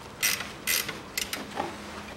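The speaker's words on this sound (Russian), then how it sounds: "Затягиваем гайку." A ratchet tightens a nut during a timing belt replacement on a 2007 Ford Ranger 2.5 turbo, giving a few short, close clicking bursts in quick succession with pauses between them.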